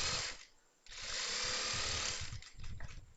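An electric sewing machine runs a churidar seam in loud, fast, continuous buzzing bursts, stopping briefly once before whirring on, close up and with no talk.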